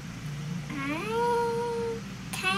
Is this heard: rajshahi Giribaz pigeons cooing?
no